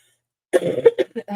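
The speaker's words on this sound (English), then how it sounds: "Sorry, I don't know where this cough just came from." After half a second of silence, a close, sharp cough breaks into a short series of rough throat bursts.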